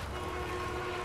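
Train rumble from the Spider-Man 2 video game, a steady loud low roar with a faint horn-like tone held over it, brief and without voices.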